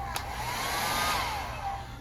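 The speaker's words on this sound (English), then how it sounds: "And we also have hair dryer." A hair dryer in an ocean-view cruise ship cabin on the Carnival Paradise runs steadily and close, a continuous whooshing airflow with a faint whine, with no talking.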